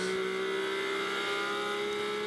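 GT4 race cars, including the 32 Porsche, at Circuit Paul Ricard, heard as a steady, loud engine roar with a constant high whine and no clear passes.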